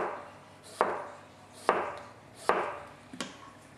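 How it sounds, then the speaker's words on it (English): A knife slices finely through a Royal Gala apple onto a cutting board, with four crisp, evenly spaced chops, each ringing briefly before the next cut. "So basically I'm just going to slice this apple"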